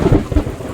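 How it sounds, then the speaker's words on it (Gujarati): A loud, deep thunderclap rumbles close overhead during a heavy downpour in a village, blending into the dense hiss of rain. "તો ભાઈ કેવો કડાકો છે જોવો તો ખરા"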